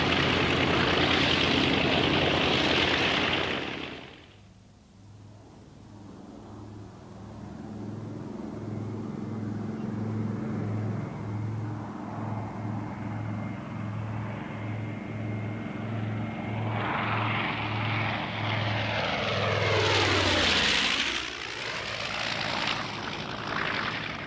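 A large propeller bomber carrying a Goblin parasite fighter taxis to takeoff, its engines droning with a steady low throbbing pulse that swells into a loud, rising roar and a sweeping whoosh as it passes close.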